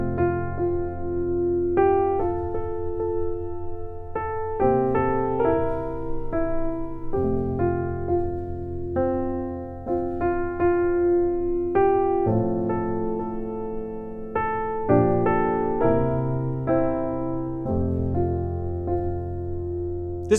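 Piano plays a simple traditional harmony of a song built on basic one and five chords, with steady sustained chords and a melody line moving over them, alone and evenly loud throughout.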